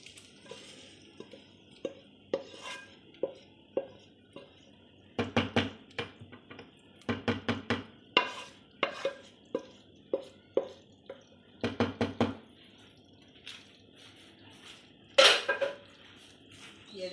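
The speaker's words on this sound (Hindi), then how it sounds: "मैं इसको अच्छे से मिक्स कर देती हूँ" Metal spoon clinks and scrapes against a cooking pot as curry with fried masala is mixed, irregular knocks and rattles in bursts, close and fairly quiet.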